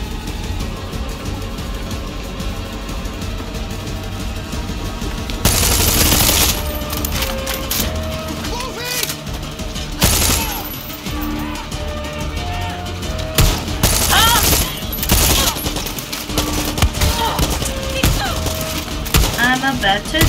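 Rapid bursts of automatic gunfire and scattered shots crack loudly through a Far Cry 6 firefight, coming in repeated volleys with thuds in between while someone shouts over the action.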